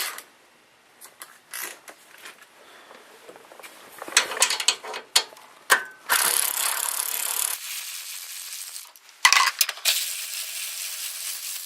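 A small ratchet zips out valve cover bolts on a small engine, giving bursts of rapid clicking that come and go, with louder sustained stretches of ratcheting near the end; no talking.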